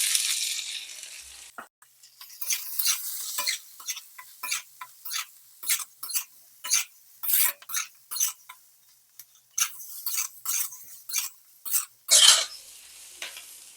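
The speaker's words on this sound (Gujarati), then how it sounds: "ચાલો આપણું અદરક, ગાર્લિક અને હેલોપિનો સોતે થઈ ગયો છે તો એમાં આપણે ઓનિયન એડ કરીશું." Onion sautéed in a pan with ginger, garlic and jalapeño: a close, rhythmic run of about twenty quick stirring scrapes, each carrying a short crackle of sizzle, with brief quiet gaps between strokes.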